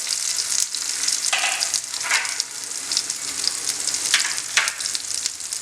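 Chicken shami kebabs browning in a pan make a loud, close, continuous crackling sizzle, with bursts of sharper spatter rising and falling throughout.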